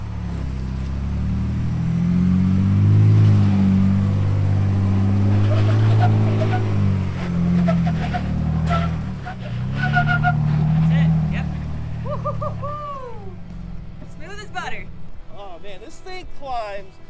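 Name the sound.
Ford Bronco Raptor engine climbing off-road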